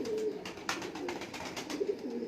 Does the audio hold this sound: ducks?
no